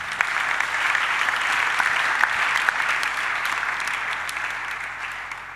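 A church congregation applauds throughout a worship service, a dense, steady wash of clapping filling the room at even loudness with a few sharper claps standing out near the front.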